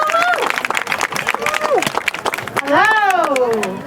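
An audience at a ceasefire rally claps in a brief round of applause, with a speaking voice over the clapping.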